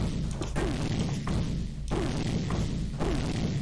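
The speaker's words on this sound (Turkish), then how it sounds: "Pardon bomba attım yanlışlıkla." Bombs go off in the FPS game .kkrieger as a series of muffled thuds, each with a brief crash, spaced about a second apart over a constant noisy game background.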